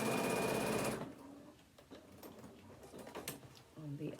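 Sewing machine runs loud and steady for about a second while stitching down the edges of fabric for a Tommy phone stand, then stops, leaving quiet handling noises and a faint voice.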